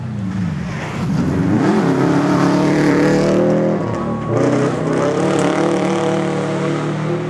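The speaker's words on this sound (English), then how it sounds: "Evan in his XD Clutches Subaru on the way in" A Subaru rally car drives through a rally stage, its engine revving and shifting up and down in pitch as it accelerates and brakes. It stays loud and close throughout, with no talk.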